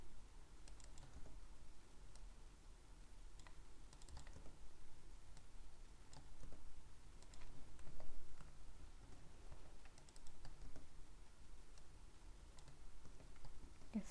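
Steady typing on a computer keyboard while entering form fields for an Angular and PrimeNG web app, a continuous patter of soft key clicks at moderate level with no talking.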